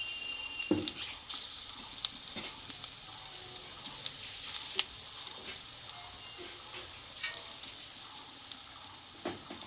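Pumpkin leaves fry in hot oil with a steady, close crackling sizzle, broken by small clicks and scrapes as they are stirred in the pan.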